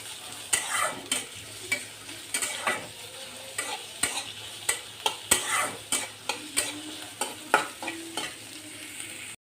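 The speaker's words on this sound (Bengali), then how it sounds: "এই যে কেটে রাখা পেঁয়াজ কাঁচামরিচ দিয়ে দিচ্ছি। এখন নেড়ে চেড়ে নিব, নেড়ে চেড়ে পেঁয়াজটা ভেজে নিব।" Onion and green chillies sizzle in hot oil while a spatula stirs them in a pan, sharp repeated scraping strokes in a quick irregular rhythm over a steady close fry.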